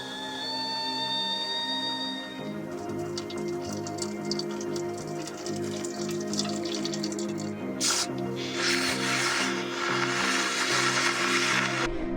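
A new milk frothing machine hisses and gurgles with a dripping, bubbling texture over a steady hum, growing into a brighter rush of steam near the end, in a camper van.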